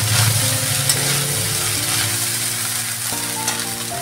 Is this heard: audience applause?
no